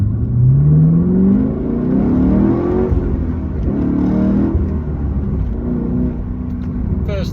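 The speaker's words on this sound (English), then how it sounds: "So we've got an LS2 V8 Chevy small block, so same sort of motor as the Corvette." A Chevy small-block LS2 V8 in an HSV R8 Clubsport revs up with rising, loud engine tones that fall and climb again as the car pulls away, steady and close throughout.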